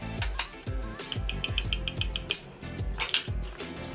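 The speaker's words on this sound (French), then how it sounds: "Avec mon petit dotting tool, je mélange." A small metal dotting tool clicks and taps repeatedly against a container while mixing nail glitter product, giving a quick, irregular run of close, bright metallic ticks and scrapes with no voice.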